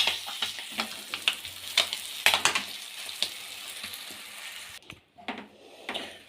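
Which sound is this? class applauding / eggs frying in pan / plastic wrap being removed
eggs frying in pan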